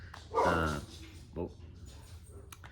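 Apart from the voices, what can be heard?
dog barking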